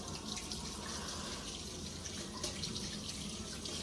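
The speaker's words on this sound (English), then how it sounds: "And then we wash off that soap." A running tap pours steadily over hands being rinsed of soap at a sink, a constant close splashing hiss with small surges, no voices.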